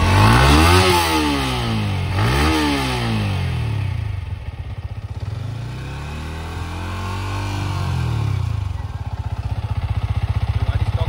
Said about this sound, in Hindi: अभी हम चेक करते हैं इसका एग्जॉस्ट नोट, तो चालू करते हैं